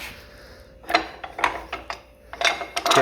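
A 1912 Marvel power hacksaw mechanism clatters with a series of sharp mechanical clicks and ratcheting knocks, irregular and fairly close, after the cut as its flywheel keeps spinning.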